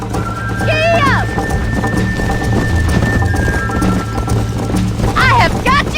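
Horse galloping in Red Dead Redemption, a steady rapid clip-clop of hooves close by under rain, with neighs and voices talking over it.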